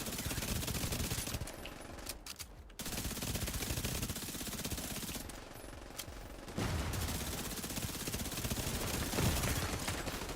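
Rapid automatic gunfire in a video game, loud sustained machine-gun bursts with two brief lulls, mixed with game effects and no clear talking.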